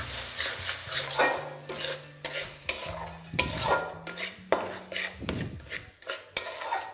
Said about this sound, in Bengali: এবার 4 থেকে 5 মিনিট আমি এটাকে ভালো করে একবার কষিয়ে নিচ্ছি, যতক্ষণ না রসুনের কাঁচা গন্ধটা চলে যাচ্ছে।